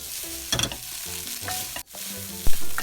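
Sausage fried rice with sauce is tossed and stirred in a hot pan, giving close, steady sizzling with scraping strokes of the spatula and a few sharper clanks.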